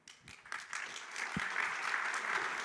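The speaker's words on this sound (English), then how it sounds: "They're pre-clapping for your question" Audience clapping at a conference main stage, starting with a few scattered claps and swelling into steady, dense applause that holds to the end.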